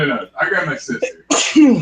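One sudden sneeze bursts out near the end, right after someone speaks during a tabletop role-playing session.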